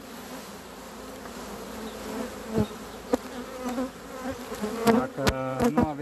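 Honey bees buzz steadily around a hive frame at close range, with sharp clicks and handling knocks, and someone speaks Romanian briefly over the hum.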